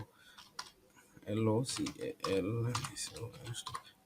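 Keys clicking on a computer keyboard while a domain name is entered into a browser address bar, soft rapid taps running under a man's speech throughout.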